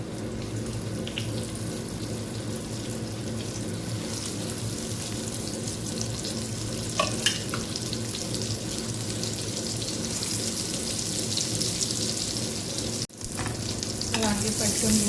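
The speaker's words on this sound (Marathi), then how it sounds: "आपल्याला तेलामध्ये वांगी छानपैकी परतून घ्यायचे आहेत" Stuffed eggplants frying and sizzling in hot oil in a Konkani-style home kitchen, a steady close crackle with running water and light stirring knocks around it and a brief dip near the end.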